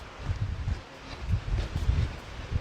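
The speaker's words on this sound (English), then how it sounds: "It's windy, guys." Wind gusting through a huge canyon in Arizona, a rough low buffeting rush that swells and eases in uneven puffs, close against the microphone and moderately loud, with no voices.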